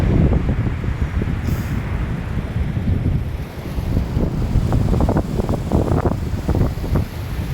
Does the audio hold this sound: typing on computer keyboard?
no